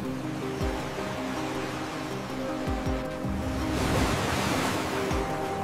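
Ocean surf rolls in a steady, broad wash in a cartoon, with low thuds scattered through it and a swell toward the end.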